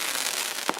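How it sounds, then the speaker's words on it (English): Fireworks go off outdoors in a faint, crackling wash, with one sharper pop near the end of the brief burst. "That's a sick firework."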